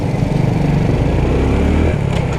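A 2023 Honda XRM125 Fi Motard motorcycle engine runs close by with a steady, throbbing idle and faint rhythmic pulsing, heard on its own without speech.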